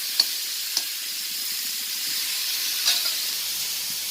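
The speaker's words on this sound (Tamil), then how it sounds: "இந்த வானலில் கடுகு வெந்தயம் நல்லா பொரியட்டும்." Mustard seeds and fenugreek fry in a hot pan, a steady sizzling hiss with a few faint pops, fairly close, with no voices.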